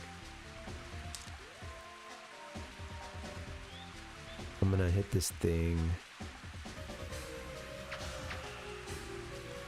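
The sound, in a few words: rain falling on a golf course in the video game Mario Golf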